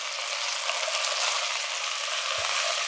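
Vegetables sizzle steadily in a pan for asparagus soup, a constant bright frying hiss, with one soft low knock of stirring near the end.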